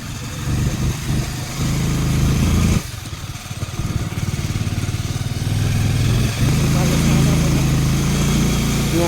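A motorcycle engine runs steadily with a low throbbing drone that dips briefly and then resumes, close and loud, with people talking over it on the way into Diktel bazaar.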